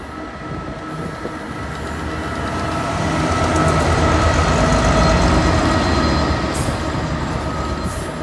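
A heavy freight train with a class 66 locomotive passes through Cardiff Queen Street station, its loud, continuous rumble and rolling wheel noise building and then holding steady at close range.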